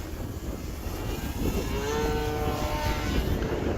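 An H-King Wargo Edge 540T electric RC aerobatic plane flies overhead in gusty wind, its propeller whine steady and moderately loud, rising and bending in pitch as it passes over wind noise.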